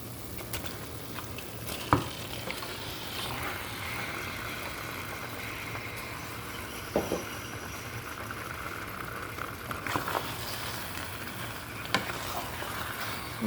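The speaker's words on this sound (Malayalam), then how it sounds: "നമുക്ക് മസാലയും ചിക്കനൊക്കെ കൂടി നന്നായിട്ടൊന്ന് മിക്സ് ചെയ്തെടുക്കാം." Marinated chicken and masala sizzle steadily in a hot pan for a Kerala-style chicken curry, with the hiss running throughout and occasional clinks and scrapes as a spoon stirs the mixture. No one speaks.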